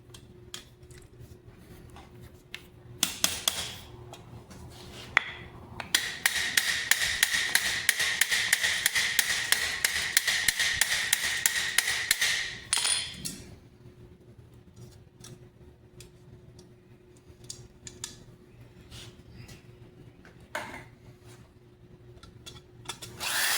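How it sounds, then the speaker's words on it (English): Rivets are hammered on a Topfhelm great helm, sharp metallic taps that speed into a dense, rapid run of strikes in the middle, with sparser isolated taps before and after. "really what I need to do is drop that rivet"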